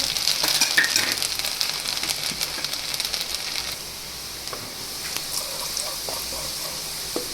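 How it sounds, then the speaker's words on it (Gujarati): Finely chopped garlic sizzles in hot oil in a home kitchen, a steady crackling hiss that loudens at first and settles to a softer fry, with a few clicks of handling. "આ લસણની ઝીણી ઝીણી કટકી કરી લીધી છે એને આપણે તેલમાં એડ કરી દઈશું"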